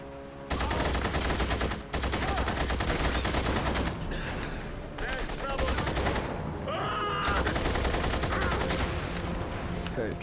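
An MP40 submachine gun fires in The Saboteur with loud sustained bursts of automatic fire, broken by short pauses and overlapping game effects.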